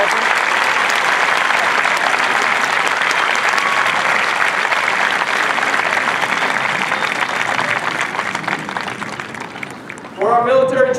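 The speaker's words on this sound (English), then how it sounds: "let's give them a round of applause" Sustained applause from a large crowd honoring standing veterans at an Air Force Basic Military Training parade, steady and broad for about ten seconds before thinning, with a brief voice cutting in at the end.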